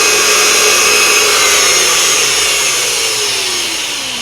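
A Unimat SL1000 lathe cuts 12L14 steel, giving a loud, steady high-pitched whine and hiss of the cut that holds level for a few seconds, with a slowly falling motor tone beneath.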